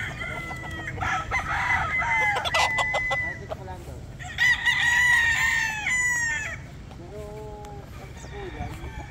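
Gamefowl roosters on a breeder's farm crow several times in long, near calls, with clucking and other fowl sounds around them while a person talks under the birds.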